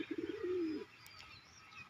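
A domestic pigeon nearby gives a short run of quick pulsing coos that slide into one drawn-out coo, then the space falls quiet apart from faint background noise.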